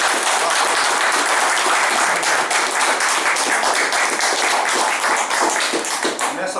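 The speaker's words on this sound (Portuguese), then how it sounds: "Queria uma salva de palmas para vocês." Sustained audience applause at a round-table event on curió songbird breeding and song judging, dense and even throughout, with no speech over it.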